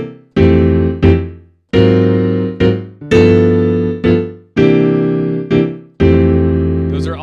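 Jazz piano comping in drop 2 voicings, loud close chords struck one after another in a loose rhythm, each ringing and decaying before the next, with no talking.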